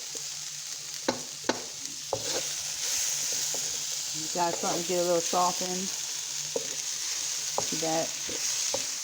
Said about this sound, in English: You got them stir-fried onions and delicious onions.